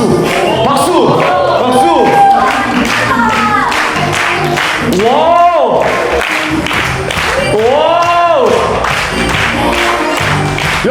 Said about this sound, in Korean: 네, 박수 부탁드릴게요